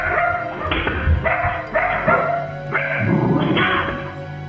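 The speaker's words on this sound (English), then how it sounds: "their dog barking fiercely and rushing towards unseen presences in the dark" A dog barks fiercely and repeatedly in the dark, several loud, close barks in quick bursts with a short gap, over a low background rumble.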